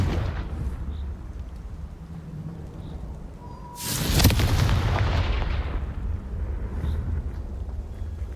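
A single big explosive boom from the Confringo blasting spell in Hogwarts Legacy, a sudden loud burst that rumbles and slowly decays over quiet game ambience.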